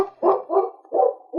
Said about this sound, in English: The great dog, Yukon King, racing toward town